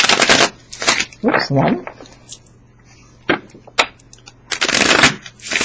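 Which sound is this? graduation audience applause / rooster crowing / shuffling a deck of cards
shuffling a deck of cards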